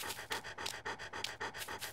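A dog pants in the Nintendo Wii horror game Ju-on: The Grudge, rapid rhythmic breathy huffs repeating steadily about every quarter second, fairly quiet and close, with no talk over it.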